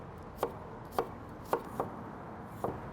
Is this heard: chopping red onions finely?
yes